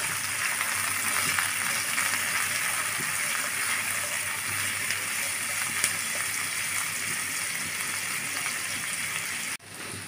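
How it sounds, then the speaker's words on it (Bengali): Chopped onion and garlic fry in hot oil, giving a steady, dense sizzle that holds at an even level for about nine seconds before dipping sharply near the end. "আর রসুন কুচি দিয়ে পেঁয়াজ রসুন সব কিছু একটু ভেজে নেব"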